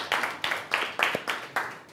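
Several people clap in a brief, loose round of applause for a speaker at a sales training session, seven or eight distinct sharp claps in an uneven rhythm, fairly close and moderately loud, with no talking over them.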